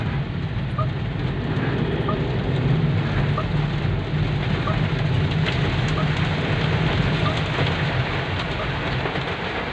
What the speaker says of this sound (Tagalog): Dito tayo sa ilalim ng tulay para wala masyadong patak ng ulan.